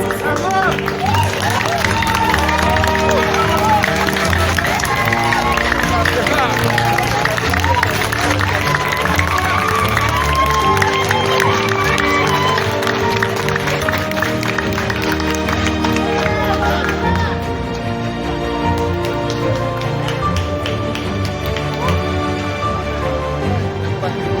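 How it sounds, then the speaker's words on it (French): An audience breaks into sustained applause and cheering, dense clapping and crowd noise filling the space continuously, loud and close, thinning slightly toward the end, with voices mixed into the babble. "Applaudis, Mélissa."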